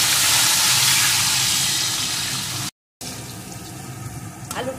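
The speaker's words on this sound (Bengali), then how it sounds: "আলুটাকে একটু লাল লাল করে ভেজে নেব।" Potato pieces frying in hot oil for a Bengali murighonto with Gobindobhog rice: a steady, dense sizzling hiss that drops out for a moment, then returns slightly quieter with a faint clink near the end.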